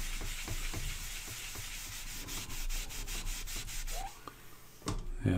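A record player deck is scrubbed with slightly abrasive cream cleanser, giving faint, close scratchy rubbing strokes in a loose back-and-forth rhythm, with a few small knocks near the end.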